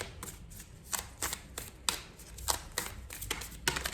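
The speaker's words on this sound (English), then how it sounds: "Now, I'm going to get you a card for manifestation." Oracle cards shuffled by hand, a run of crisp riffling bursts that repeat in an uneven rhythm, close and fairly loud, with no talking.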